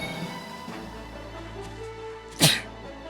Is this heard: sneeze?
yes